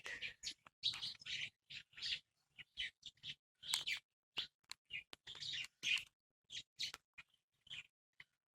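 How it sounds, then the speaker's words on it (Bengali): A common myna calls in a run of sharp, chattering chirps and whistles, close and fairly loud, with short pauses between bursts and a quiet background. "ভাই এটা শালিক ভাই কত সুন্দর লাগে শালিক শালিক ময়না"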